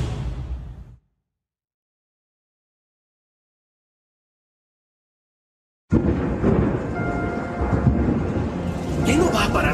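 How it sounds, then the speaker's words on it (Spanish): Rain and thunder from the video game Spyro Reignited Trilogy: a short burst of stormy noise cuts to about five seconds of silence, then a dense, steady downpour with rumbling returns and builds. "¿Qué no va a parar de llover?"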